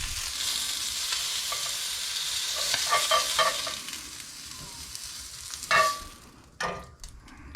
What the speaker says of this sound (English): As they come off, I'm just dropping them in the butter right there.